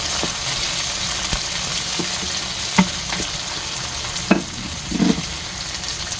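Squid and tomatoes sauté in a hot pan for adobong pusit, a continuous loud sizzle and fry broken by a few louder stirring scrapes and knocks.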